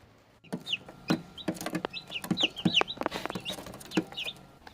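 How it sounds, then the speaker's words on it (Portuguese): Young chicks hatched in an incubator peck outdoors on dirt, giving repeated high-pitched chirps along with clucking and soft scratching and knocking sounds close by. "E agora eu trouxe os pintinhos aqui fora, decidi colocar eles para ciscar um pouco aqui na terra"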